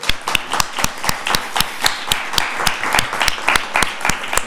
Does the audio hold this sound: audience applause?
yes